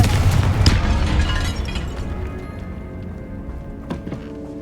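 In the game Hogwarts Legacy, a Confringo spell explosion bursts with a loud boom that rumbles and slowly fades, followed by a few light taps and clicks.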